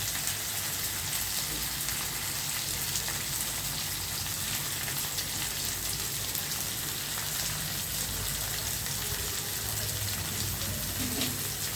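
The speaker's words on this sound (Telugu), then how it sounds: "తర్వాత ఉల్లిపాయ పచ్చిమిరకాయలు వేస్తున్నానండి" Onions and green chillies fry in a pan for bitter gourd tamarind stew, giving a steady, dense sizzle that holds evenly throughout with no talk.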